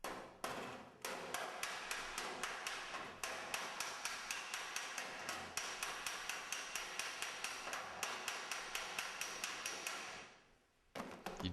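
A hot rod rear guard is hammered in a steady rhythm of sharp metallic blows, dozens of evenly spaced close strikes with brief pauses, ending with a short break before a few final hits.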